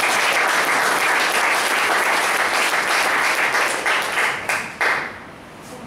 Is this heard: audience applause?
yes